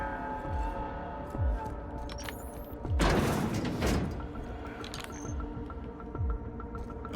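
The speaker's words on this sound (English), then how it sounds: "Never mind the gunshots you hear." Gunfire from combat in the video game The Outer Worlds, a series of sharp low thumps recurring roughly every second over a steady droning hum, with a louder burst of firing in the middle.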